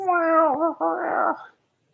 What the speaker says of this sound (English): There's our cat.